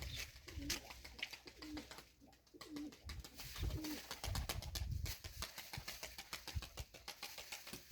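Pigeons cooing repeatedly in low, throaty calls amid a busy flock, with wing flutters and a faint engine hum in the background.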